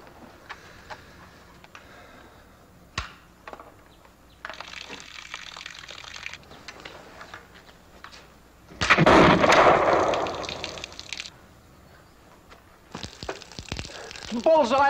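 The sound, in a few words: gunshots from a rifle at target practice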